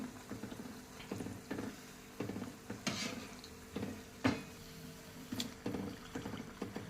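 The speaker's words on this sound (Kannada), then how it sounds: "ನಿಧಾನವಾಗಿ ಮಧ್ಯಮ ಉರಿಯಲ್ಲಿ, ಮೀಡಿಯಂ ಫ್ಲೇಮಲ್ಲಿ ಗೋಲ್ಡನ್ ಬ್ರೌನ್ ಕಲರ್ ಬರೋವರೆಗೂ ಫ್ರೈ ಮಾಡಿ." Maddur vada frying slowly in oil on a medium flame: a quiet bubbling sizzle broken by repeated soft knocks and scrapes of a utensil, no voices.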